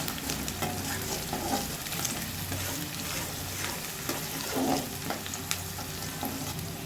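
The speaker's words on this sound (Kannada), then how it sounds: "ಈರುಳ್ಳಿ ಈ ಥರ ಕೆಂಪಿಗೆ ರೋಸ್ಟ್ ಆಗಬೇಕು." Crushed native onions fry in a pan with a steady, dense sizzle, close and continuous, with occasional stirring scrapes breaking through.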